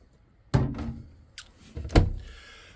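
A camper's bottom pantry cabinet door is handled, giving a sharp thunk, a small click, then a second firm knock as it swings and meets the frame, close by and with no voices.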